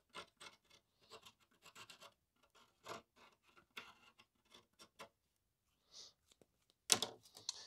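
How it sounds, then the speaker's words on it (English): A Sharpie marker scratches ink onto a fiberglass tube, giving quiet, close scratchy strokes in a loose irregular rhythm, followed by one sharper, louder scrape near the end. "take a Sharpie and just put some ink on the fiberglass tube"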